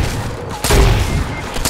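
Grenade launcher blasts and gunfire in a Fortnite match: a loud broadband burst hits at about 0.6 seconds and another near the end, over a steady din of shooting.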